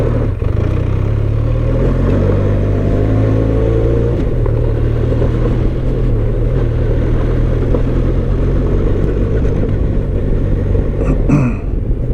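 Benelli TRK 502 adventure motorcycle on road tyres ridden off-road, its engine rumbling loud and close throughout with shifting revs and a rough, bumpy texture.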